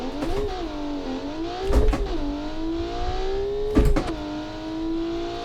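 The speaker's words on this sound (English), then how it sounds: "I'm gonna launch this like I really don't care about the transmission or the clutch." Engine of a 2010s budget performance car launched hard in BeamNG.drive, revving and climbing through the gears with two sharp shift breaks, loud and steady, with no voices.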